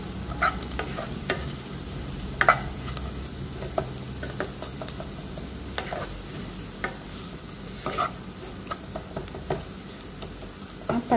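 Grated ginger and garlic sizzle steadily in a pan for a Malabari fish biryani while a utensil stirs and scrapes through them in irregular taps and clinks, with no talk.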